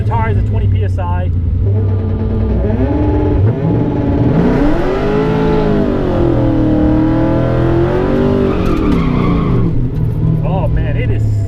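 A drag racing car launches hard from the line on tires set to 20 PSI, its engine screaming and climbing through rising revs and gear changes, loud and close to the microphone the whole time.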